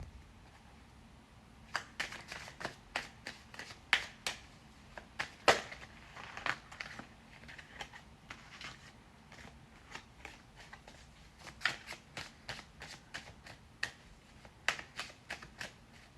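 Tarot cards riffle and flick in quick, crisp bursts during shuffling, close and quiet, in irregular clusters with short pauses between them.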